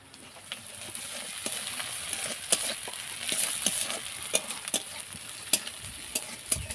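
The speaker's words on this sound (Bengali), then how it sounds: "কাঁচা লঙ্কা আর পেঁয়াজ কুচি একসঙ্গে দিয়ে ভেজে নেব।" Green chili, chopped onion and garlic paste fry in a pan while being stirred. A continuous close sizzle runs throughout, broken by sharp, irregular scraping clicks of the spoon against the pan.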